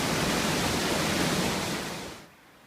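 Ipsit Falls, a waterfall near Ipsit Creek Campground on Mount Rainier, roars as a steady loud broadband rush that fades down toward the end.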